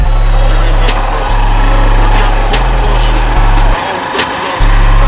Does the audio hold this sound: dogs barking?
no